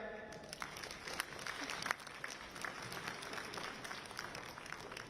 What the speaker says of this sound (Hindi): उन सबके सम्मान में आप तालियां बजाएं